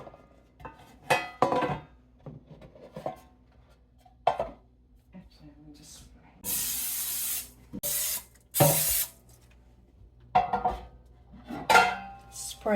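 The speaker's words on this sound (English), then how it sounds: "Spray butter." Butter spray hisses in several short bursts of a few seconds each, close up, in a quiet kitchen during hand bread-making, with scattered clinks of dishes and utensils around it.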